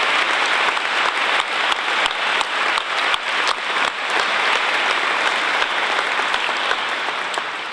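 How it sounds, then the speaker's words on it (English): A breakfast audience at the Westover air show applauds reservists, a dense, steady roar of many hands clapping close by that runs throughout without pause. "So I want to give a big round of applause to all of our UTA, all of our reservists here."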